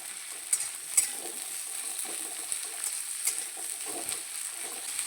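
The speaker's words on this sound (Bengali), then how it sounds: "পেঁয়াজটা দিয়েও পেঁয়াজটা ভেজে নেব।" Chopped onion frying in a pan for a spicy pumpkin mash, giving a steady close sizzle with occasional scraping and stirring clicks.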